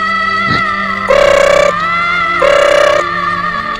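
A phone rings in two long electronic trills separated by a pause, loud and close over a constant steady hum.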